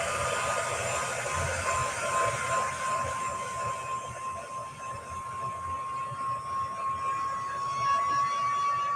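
A hair dryer blows on chalk-inked fabric as a steady, loud airy rush with a thin, constant high whine running throughout, heard close and with no talking.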